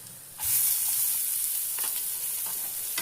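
Dry roasting of chana dal, urad dal, coriander seeds, fenugreek, asafoetida, chillies and coconut in a pan for Madhva-style sambar gives a steady close sizzling hiss, with a few faint scrapes of stirring and no talking.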